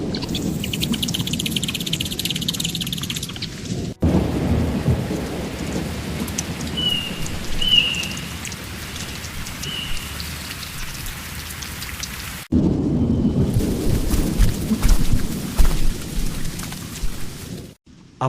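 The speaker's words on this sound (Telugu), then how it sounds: "ఒకరోజు రాత్రి మెరుపులు మెరుస్తూ వర్షం వచ్చింది." Heavy rain pours steadily at night during a thunderstorm, with rolling thunder rumbles and faint insect chirps, the downpour shifting in intensity across abrupt section changes.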